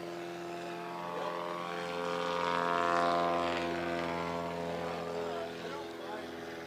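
An older Traveler STOL light aircraft takes off at a fly-in and air show competition, its propeller engine droning steadily with a strong tonal hum that swells and then eases as it passes, under distant commentary.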